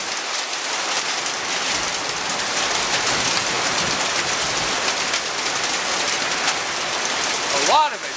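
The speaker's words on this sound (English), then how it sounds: "This is the first time I've ever seen hail." Hail pounds a car during a Florida thunderstorm, a dense, steady clatter of ice striking metal and glass that stays loud throughout, with a brief sharper burst near the end.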